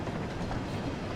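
In a Thomas & Friends video game, a train rumbles steadily through a pitch-black tunnel, with a dense, continuous rolling roar and faint clickety-clack from the wheels. No talking.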